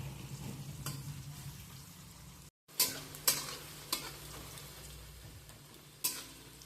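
Sliced onions fry over a high flame in oil for biryani, a constant sizzle punctuated by sharp spoon scrapes every second or so, with one brief dropout.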